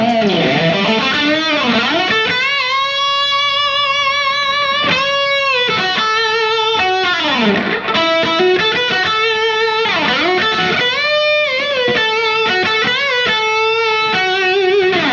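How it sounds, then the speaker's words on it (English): Heavily overdriven electric guitar through an already distorted amp boosted by an Ibanez Tube Screamer Mini pedal plays sustained notes and bends with a thick, saturated tone, loud and continuous with no voices. "I already have a distorted amp and I'm kicking it into more overdrive."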